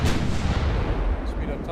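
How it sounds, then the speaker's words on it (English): Naval artillery booming from warships in Ultimate Admiral Dreadnoughts, a single heavy blast with a rolling rumbling decay that fills the short moment, loud and close. "They're already firing at us."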